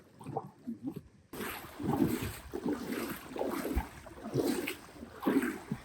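Kayak paddles dip and splash in open water on a windy outing, the sound of the strokes fairly close and roughly regular, with wind buffeting the microphone throughout.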